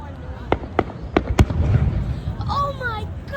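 Fifth of July fireworks go off in a series of sharp bangs, four or five close together, under people talking excitedly, with a lingering crackle and whistling after.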